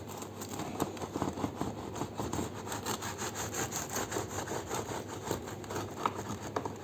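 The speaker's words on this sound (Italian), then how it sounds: "Questo è il rumore della focaccia." Freshly baked Genovese focaccia crackles and crunches close up, a dense scratchy rasping that sounds like it is being cut or broken. The sound is fairly quiet and steady, with no talking.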